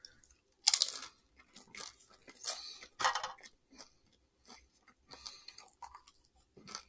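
Crunchy chewing of Americanized Chinese takeout food, close and loud bites and crunches in irregular bursts with quiet gaps, occasional light clicks of utensils, no talking.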